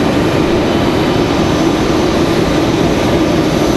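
An American Airlines Boeing 737 jet pushing back and taxiing at Raleigh-Durham International Airport, a loud, steady jet engine roar and rumble, unbroken throughout and with no talking.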